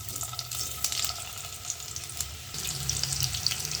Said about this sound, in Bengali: ওই তেলেই কালো জিরা ফোড়ন গেল, আর যাচ্ছে কুচনো আলুগুলো।